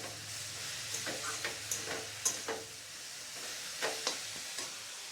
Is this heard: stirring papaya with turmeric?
yes